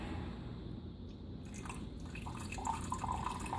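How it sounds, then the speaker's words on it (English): Brewed coffee poured slowly over softened butter in a cup, giving a steady, faint liquid trickle and patter that continues throughout with no talking. "I'm kind of trying to pour it slowly over the butter so that it melts it."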